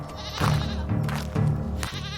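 A goat bleats four times in quick succession, each call a short, wavering cry, loud and close, in a village setting.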